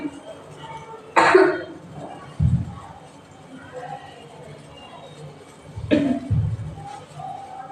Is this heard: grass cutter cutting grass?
no